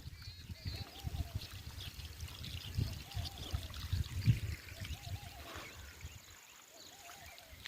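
Irrigation water flows and trickles steadily into a groundnut field, a continuous watery rush with faint voices talking in the background.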